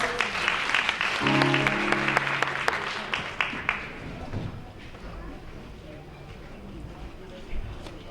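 Audience applause at a Black History Month celebration, loud dense clapping that thins out and fades into room noise, with a short musical tone early on.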